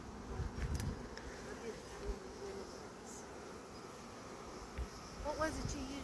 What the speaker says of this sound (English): But there's just bees everywhere.